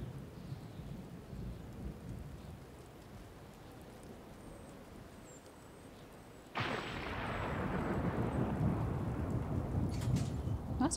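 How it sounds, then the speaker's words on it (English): A thunderstorm rolls in within the cozy farming game Wylde Flowers: low rumbling and steady rain, then a sudden loud thunderclap bursts in and heavier rain roars on. "That's quite the storm coming in."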